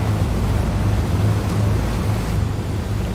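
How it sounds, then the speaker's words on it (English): Radial piston engines of a B-25 Mitchell bomber in Microsoft Flight Simulator give a loud, steady low rattling drone with a broadband rush of wind over it, continuous throughout. "oh my god, does this have a rattle. Now this is what the B25 Mitchell should sound like."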